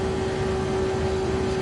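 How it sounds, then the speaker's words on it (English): A Honda race car engine in a Nippon GR2 super cup race screams at high revs, a steady, loud, sustained whine with a constant pitch and no pauses. "Honda engine just screaming now."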